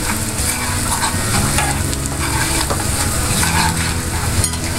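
Pan frying for salmon with lime and garlic sauce as half a teaspoon of pepper is stirred in; a steady, close sizzle with scraping stir strokes runs throughout, with no talking.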